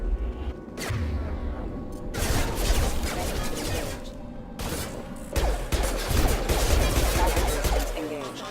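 Bursts of gunfire from a Mass Effect 2 firefight on PC, sustained volleys of shots with brief pauses, loud and dense, with faint voices now and then.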